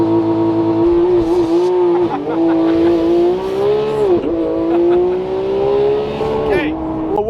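Porsche GT3 launching hard under launch control, its engine a loud, sustained rising drone with brief dips at each gear change, heard from inside with voices over it.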